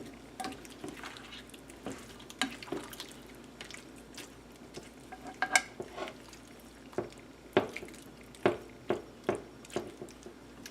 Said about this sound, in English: So we're just going to mix it in.